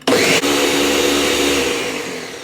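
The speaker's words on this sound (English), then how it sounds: "I don't have one of those really expensive blenders. This is a Ninja. This has professional 1100 watts." A Ninja 1100-watt blender mixes greens for a smoothie, a loud, steady, close whirring roar that starts abruptly, hiccups briefly and then runs on, easing slightly toward the end.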